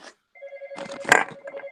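A phone rings in a podcast studio with a bright, electronic melodic ringtone. The rings are short and repeated, close and loud, with no talking over them.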